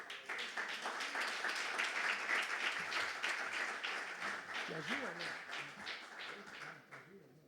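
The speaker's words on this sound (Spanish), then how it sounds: "a mí me gusta recibir a los que predican con un aplauso de amor" A church congregation at a pastors and workers retreat claps warmly to welcome a preacher, a full, lively round of applause that gradually thins out, with voices speaking underneath toward the end.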